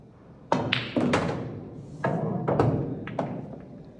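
Pool balls clack and thud against the table cushion in several separate, close knocks spread across a few seconds, each with a short rattling decay, with no talking over them.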